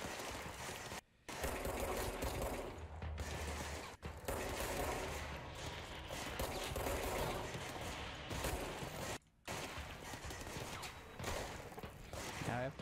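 Rapid, steady gunfire fills a video game boss fight almost without a break, with a few short silent gaps and a low mechanical clatter running under it.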